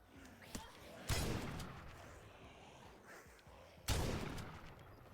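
A shotgun fires twice in the game The Last Stand Aftermath, each shot a loud booming blast with a lingering tail, about three seconds apart, over quiet background murmur.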